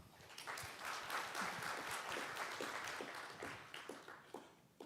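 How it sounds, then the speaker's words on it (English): Audience applause welcoming a speaker at a cartel policy workshop in Seoul, a steady wash of many hands clapping through the room at moderate, fairly distant level, with individual claps standing out and the applause tapering slightly toward the end. "Let's give him a hearty round of applause."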